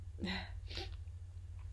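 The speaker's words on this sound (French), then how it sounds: "Je vais éternuer." A single short, close sneeze bursts out with a quick follow-up exhale, over a faint low electrical hum.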